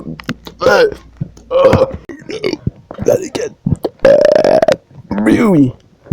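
Kenny burps loudly and up close several times, mixing short belches with one long drawn-out burp, with talking and faint clicks mixed in.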